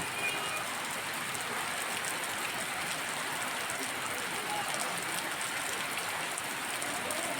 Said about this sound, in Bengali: আর বৃষ্টি তো থামার নামই ছিল না, এমন বৃষ্টি শুরু হয়েছিল সত্যি কথা